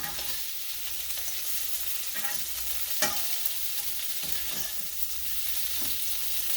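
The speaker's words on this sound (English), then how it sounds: "crispy fried red lobster shrimp, dragon shrimp cooking video" Red lobster shrimp fry in hot oil with a dense, continuous sizzle, joined by occasional sharp pops and stirring clicks close by. No voices are heard.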